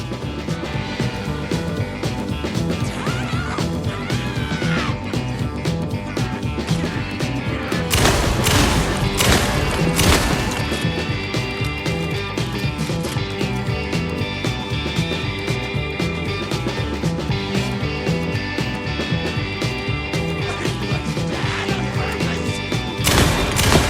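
Gunfire in the video game Alan Wake 2, heard as dense, loud shots and booms within a busy, continuous game soundscape with layered music and effects, with a heavier cluster of blasts midway.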